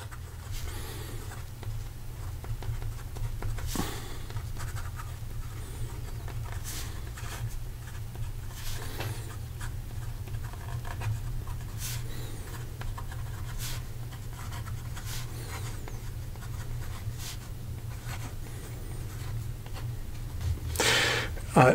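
A Pilot Custom 823 fountain pen nib writes on paper, giving soft, scratchy strokes with occasional brief louder scrapes over a constant low hum.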